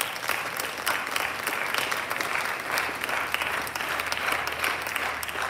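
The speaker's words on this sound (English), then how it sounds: "So students, can you give the people that are here a round of applause for their help?" Students at a Burgettstown senior awards ceremony applaud their helpers, a sustained, even round of clapping from a hall full of people that continues for over five seconds.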